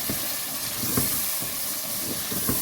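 Spices frying for a boneless chicken handi give a steady broadband hiss and sizzle, with a few soft knocks and scrapes of stirring at intervals, close and moderately loud with no talking.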